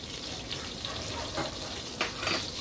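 Whole spices (black cardamom, green cardamom, cloves and a small piece of cinnamon) roasting in a hot pan give a steady, close, dense sizzle that rises briefly in a couple of sharper spurts.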